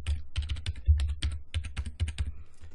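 Close, busy typing fills a computer keyboard session as a password is entered, rapid irregular key clicks with deeper thumps from the keys bottoming out, and no voices.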